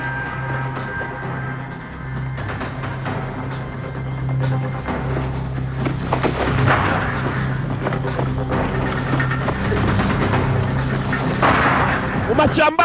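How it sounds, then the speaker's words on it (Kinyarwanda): Gunfire from an action film starring Jason Statham, where a man runs and fires behind him with a gun picked up in the forest; bursts of shots and booms come in clusters over a dense soundtrack. "umugabo aragenda arasa inyuma imbunda niyo yatoraguye"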